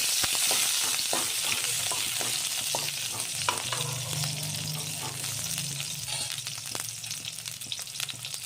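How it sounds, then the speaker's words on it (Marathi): Chopped onion frying in a pan with a bay leaf, a bright continuous sizzle with scattered crackles and spoon-stirring scrapes, close and steady throughout. "एक कांदा घेतलेला आहे छोटासा कापून हा यामध्ये टाकायचा कांदा थोडा होऊ द्यायचा आपल्याला"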